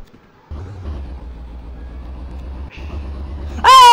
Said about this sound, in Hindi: हाँ गाड़ी की आवाज बहुत मस्त है।